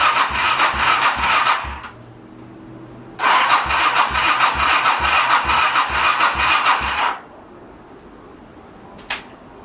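A Honda VT700 motorcycle engine, with no choke, cranks over in two loud rhythmic bursts of starter chugging, a pause between them, and a quieter trailing tail with a brief click after.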